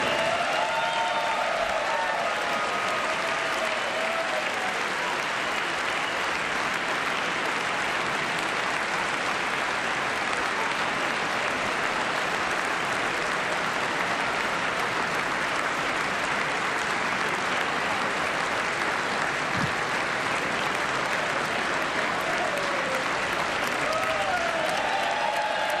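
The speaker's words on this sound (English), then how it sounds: "the First Lady enters the chamber to an applause" Sustained, loud applause from a large crowd fills the House chamber of the U.S. Congress as the First Lady enters before the presidential address, steady clapping with cheering throughout and no pause.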